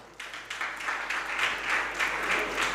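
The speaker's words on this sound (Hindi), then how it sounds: "हमने ये ताली बजाने को नहीं बोला" Audience applause during a Jain monk's religious discourse in Itarsi, broad steady clapping from a gathered crowd that swells after a few scattered first claps and continues evenly throughout.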